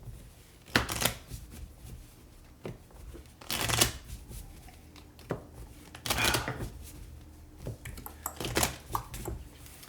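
Playing cards being shuffled during an Undaunted: Stalingrad board game, heard as several distinct riffling bursts spread across the stretch, fairly close, with quiet pauses between them and no talk.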